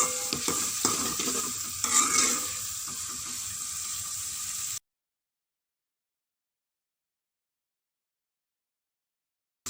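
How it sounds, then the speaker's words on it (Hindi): Chopped onions fry in a large spoonful of ghee for a ridge gourd curry, producing a loud, dense sizzle with stirring scrapes for about five seconds before cutting abruptly to silence. "अब इनको मैं फ्राई कर रही हूँ।"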